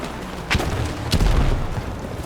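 Two heavy booms from an RPG rocket and a grenade in a Battlefield 6 match, spaced about half a second apart over a constant rumble of battlefield noise.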